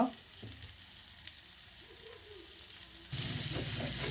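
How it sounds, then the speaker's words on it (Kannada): River fish frying in oil over a low flame in a home kitchen, a quiet steady sizzle that swells abruptly louder near the end as more oil hits the pan. "ಮತ್ತೆ ಒಂದೆರಡು ನಿಮಿಷ ಇದು ಸಣ್ಣ ಉರಿಯಲ್ಲಿ ಫ್ರೈ ಆಗ್ಲಿಕ್ಕೆ ಬಿಡಬೇಕು"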